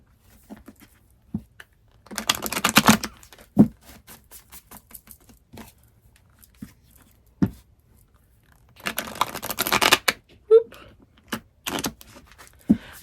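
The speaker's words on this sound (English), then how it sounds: "I keep struggling with my shuffles lately" Tarot cards riffle and flutter in two dense bursts of shuffling, with scattered taps and light handling noises between, close up.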